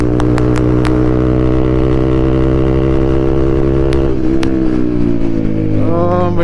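A TVS Apache RTR motorcycle fitted with a full system exhaust pulls hard in fourth gear, a loud, steady engine drone rising in pitch, punctuated by a few sharp exhaust pops near the start and again midway.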